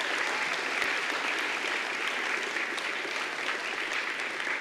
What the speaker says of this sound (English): can you give a big round of applause to your parents,